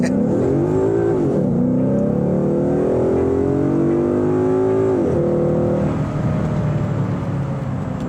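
A Ford Mustang GT (S550) V8 with automatic transmission revs hard and climbs through gears, the pitch rising, dropping at each shift, then rising again, loud and close throughout.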